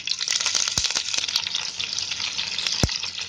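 Garlic, curry leaves and green chillies crackle and sizzle in hot oil with mustard and cumin seeds for a buttermilk kadhi tempering, a steady close hiss broken by sharp pops and a couple of loud clacks.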